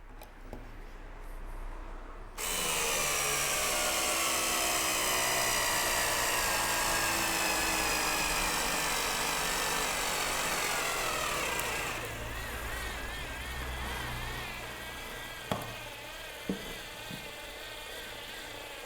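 Parkside PSSA 4 B2 cordless electric screwdriver with swivel handle driving a 4 cm by 4 mm screw, a steady high motor whine that holds for about ten seconds, then slows and falls away, followed by a few clicks.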